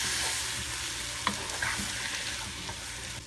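Tomatoes with seeds and skin cook in a pan with a steady, fairly quiet sizzle, broken by a few soft stirring clicks and pops.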